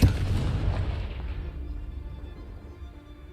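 A Confringo blasting spell from Hogwarts Legacy bursts in a single heavy boom that rumbles and fades away over a few seconds.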